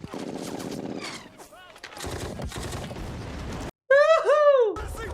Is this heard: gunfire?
yes